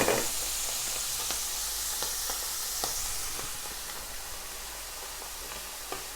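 Chicken and mushroom meatballs frying in a pan, a steady bright sizzle with scattered pops and crackles throughout, close and continuous with no talking.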